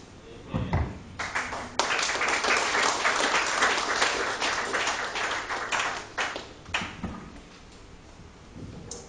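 Church congregation clapping during a praise service, a dense burst of applause swelling after a brief start and thinning toward the end, with a few scattered claps and faint voices underneath.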